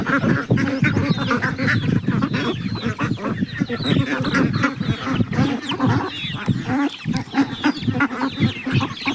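Continuous chatter of ducks quacking with some hen-like clucks mixed in, dense and close, an unbroken jumble of calls lasting the whole stretch.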